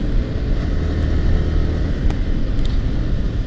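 A Yamaha R15 v4 motorcycle rides through congested city traffic, giving a steady loud rumble of engine and wind noise with faint surrounding traffic sounds and no speech.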